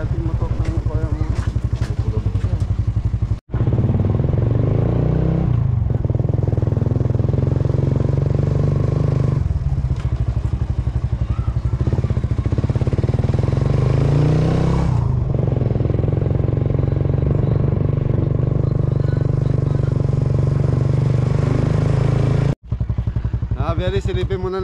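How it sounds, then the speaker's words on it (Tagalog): A motorcycle engine drones continuously up close while riding, rising and falling slightly, with brief cuts and occasional voices over it. "So magmumotor na lang kami ni Ingo"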